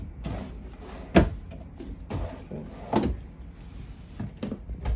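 Drawers and cabinet doors in a 2021 Lacrosse 3411RK RV camper opening and closing: a series of sharp knocks and short sliding thuds spaced through a quiet room, close by, with no talking.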